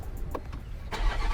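A stock Toyota GR Supra with its factory exhaust gives a brief engine burst as it is revved from inside the cabin, a short close rumble that rises near the end.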